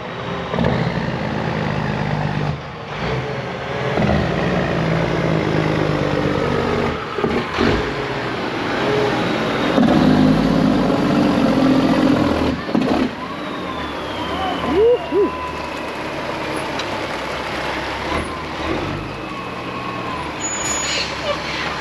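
A Peterbilt 379 truck pulling in with a low trailer outdoors, a steady loud diesel rumble that holds throughout with shifting engine tones and brief hisses, fairly close.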